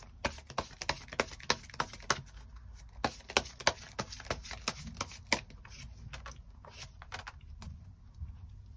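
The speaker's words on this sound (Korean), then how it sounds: "그럼 3번분들 추가 카드로 앞으로 나에게 필요한 조언의 카드들 무엇이 있을지 조금 더 뽑아보도록 하겠습니다" Tarot cards being shuffled by hand, a quiet run of quick crisp riffles and taps, separate soft slaps in an uneven rhythm, heard alone without talk.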